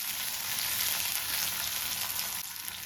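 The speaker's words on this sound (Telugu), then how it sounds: "పచ్చి వెల్లుల్లి రెబ్బలు 2 వేస్తున్నాను." Two raw garlic cloves fry in hot oil while making chutney for sprouted moong pesarattu, giving a steady, even sizzle that continues close and unbroken for about three seconds with no voices.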